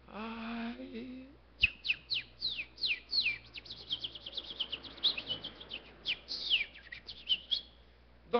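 Small birds chirp in a lively burst of short, high, rapid tweets overlapping one another, fairly close, after a brief low sound at the start.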